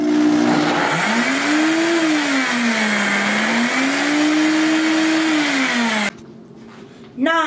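Blender whirring steadily as it blends seasoning with oil, its motor pitch rising and falling slightly for about six seconds before cutting off, followed by a brief quieter spin-up near the end.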